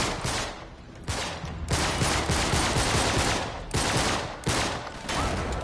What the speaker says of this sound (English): why are there so many fucking bullets on like so many different like people shooting at me when I'm on easy mode?